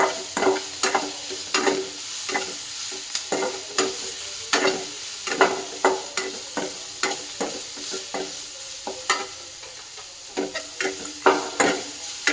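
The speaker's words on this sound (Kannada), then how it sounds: "ಈರುಳ್ಳಿ ಚೆನ್ನಾಗಿ ಫ್ರೈ ಆಗಲಿ ಮತ್ತು ಅದು ಉಪ್ಪು ಕೂಡ ಇಡಬೇಕು" Onions fry with salt in a pan for a black-eyed pea upsaaru, a soft steady sizzle under repeated rhythmic scrapes of a spoon stirring them, close by and moderately quiet.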